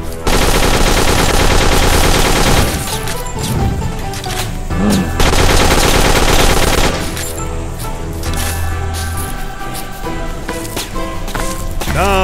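Dense, loud automatic gunfire in the video game Dead Acres, with sustained rapid bursts and short breaks, alongside game sound effects, no voice heard.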